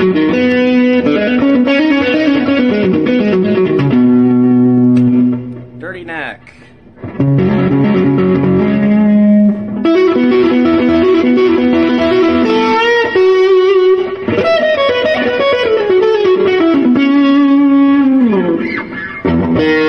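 Ernie Ball Music Man Valentine electric guitar played with heavy distortion, loud chords and riffs ringing out continuously with a short pause midway, no talking over it.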